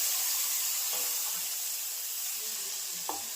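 Tempering (vaghar) for kadhi sizzles in a steady bright hiss that holds throughout, with a few faint clinks close by underneath.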